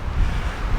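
Strong wind rumbles against the microphone at a lakeside campsite in Eleven Mile State Park in a brief, steady blast of low, blustery noise.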